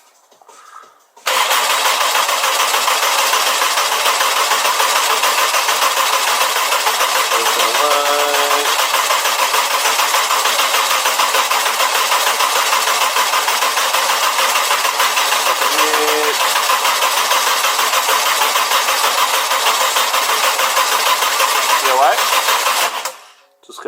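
A car engine cranking over on the starter without firing while the cam angle sensor is unplugged, a loud steady churning drone that runs for about twenty seconds, with brief voices underneath.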